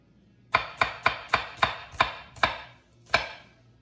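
Sharp knife slicing meat along the grain on a cutting board, eight crisp, evenly spaced strokes with a short pause before the last, close and clear with no talk.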